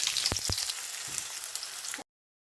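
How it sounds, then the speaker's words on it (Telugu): Sliced okra frying in a pan at home, a steady broadband sizzle for about two seconds with a couple of brief low knocks near the start, then cutting off to silence. "ఇప్పుడైతే ఫ్రై అయితే చేస్తున్నాను"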